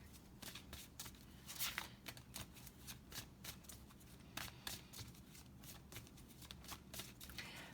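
Oracle cards shuffled and drawn from a Star Dragon deck, giving a steady run of soft riffling flicks and papery slaps close by, with no voices.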